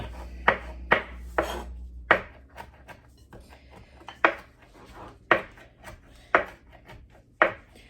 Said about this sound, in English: now I'm gonna go ahead and chop the cilantro